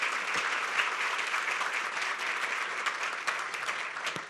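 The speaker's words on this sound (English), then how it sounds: "Let's have a round of applause for Catherine." Steady round of applause from a luncheon audience at a chamber of commerce economic event, dense even clapping throughout with a few louder claps standing out.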